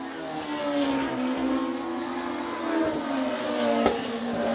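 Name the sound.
NEMA Midget race cars racing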